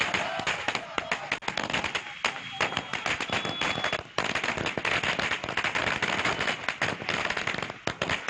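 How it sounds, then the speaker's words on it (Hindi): Firecrackers go off in rapid, dense bursts of sharp cracks and pops at a BJP victory celebration in Uttarakhand, loud and continuous with a brief lull midway, and crowd noise faintly underneath. "भाजपा नेताओं और कार्यकर्ताओं ने पटाखे चलाकर अपनी खुशी का इजहार किया"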